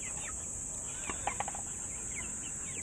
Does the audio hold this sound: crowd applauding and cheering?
no